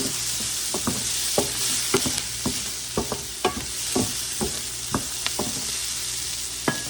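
Onions and peppers fry in a pan, a loud steady sizzle punctuated by frequent quick clacks and scrapes of a utensil stirring and turning them, with no talking.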